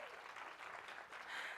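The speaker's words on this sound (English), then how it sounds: "Let's give her a round of applause." Audience applause at a TEDx university event, a steady broadband wash of many hands clapping throughout, fairly soft and continuous with no voices over it.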